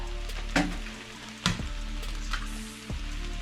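Rice frying in a hot pan during a stir fry, a soft continuous sizzle with a few sharp scraping or tapping hits from a utensil, close and fairly quiet.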